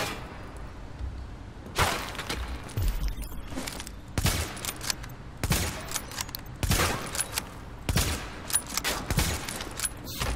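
Gunfire in the shooter video game The Division: repeated loud bursts of rifle fire in rapid volleys across a steady background of combat noise, with no voices.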